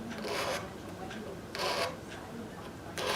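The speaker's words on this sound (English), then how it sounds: "Now I'll clean up the fretboard binding, just a little light scraping to remove all of the dirt." Light scraping cleans dirt from the fretboard binding of a dreadnought acoustic guitar, three short raspy strokes separated by quiet pauses.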